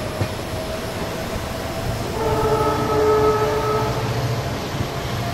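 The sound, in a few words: Dhule–Mumbai express train running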